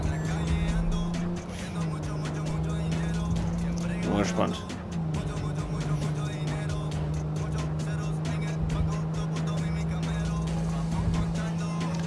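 A car driving in the video game Cyberpunk 2077, with a steady engine drone throughout that dips and swells once as the pitch shifts, and someone talking over it.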